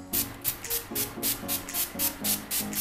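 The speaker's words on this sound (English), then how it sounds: "so I'm just going to spray my face with that" A rapid series of short aerosol spray bursts, about nine quick hisses in a steady rhythm, close and fairly loud, with no talking.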